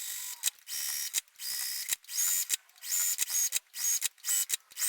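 A sewing machine runs light corner-to-corner quilting with Polyfil 50 weight thread. It comes as short, close mechanical whirring bursts separated by brief pauses, with faint high whines in places.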